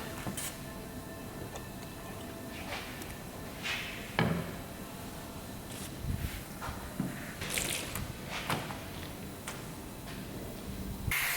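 A wet rag wipes paint stripper residue off a sun-damaged car panel, giving quiet, faint splashes, drips and scattered wiping strokes with short sharp bursts spaced irregularly, with no voice.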